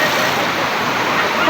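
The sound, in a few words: rushing floodwater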